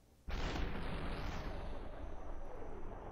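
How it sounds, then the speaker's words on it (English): A shotgun blast in the SuperHot video game, one sudden loud boom that hits hard and then rolls on as a thick, sustained roar for the remaining seconds, with no talking. "That's a shotgun."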